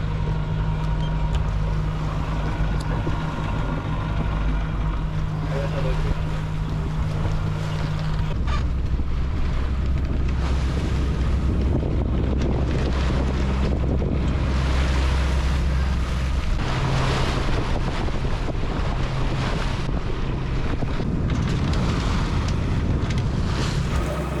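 Strong wind and rushing waves carry on throughout while a reefed sailboat crosses the North Sea. Heavy, steady wind buffeting hits the microphone, and a low rumble sits under the whole clip, with no talk.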